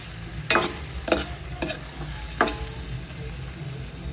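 Food is stirred in a frying pan over a low sizzle, with four distinct scraping sweeps of a utensil, three close together and one after a short pause.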